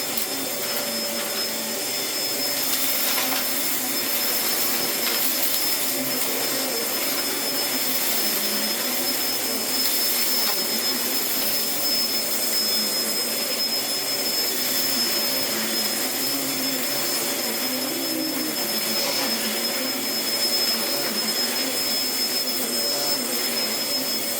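An Efbe Schott VU38 ultra lightweight vacuum cleaner runs with a constant close whining motor drone and airflow rush, unbroken throughout with no speech.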